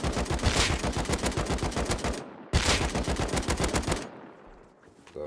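Automatic gunfire from the video game Rust, two long rapid bursts of closely spaced shots, loud and near, separated by a brief gap, with the second burst trailing off into quieter sounds.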